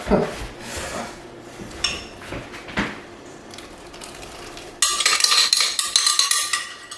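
Cooked food scraped from a pan into a saucepan: uneven metallic scrapes and rubs, close and moderately loud, growing into a bright, busier clatter of utensil on metal near the end, with no talking.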